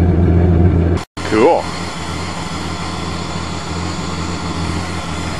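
A 1994 Chevy Blazer with the 4.3 engine cranks briefly and fires on a cold start, then settles into a steady, loud idle close by, with someone speaking a word over it.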